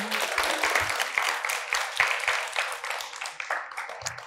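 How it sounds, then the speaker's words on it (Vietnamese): A studio audience on a Vietnamese matchmaking television show claps on cue, a lively patter of many hands at moderate loudness that thins out toward the end, with a brief voice near the close. "mọi người vỗ tay đi nào"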